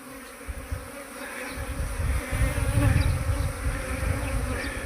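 A swarm of honeybees buzzes densely as the insects fly toward a basket, a close, continuous hum that swells and grows busier partway through.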